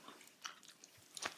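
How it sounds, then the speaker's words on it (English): Someone chews a piece of cherry-flavoured Japanese candy with a gum-like texture, producing faint, close, wet smacks and soft crunches in a few quick irregular bursts, with no talking. "I'm just chewing it."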